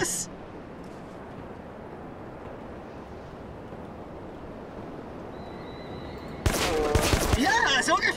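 A burst of rapid gunfire in the video game Rogue Trooper erupts near the end, loud and dense, after a long stretch of low rumbling background noise.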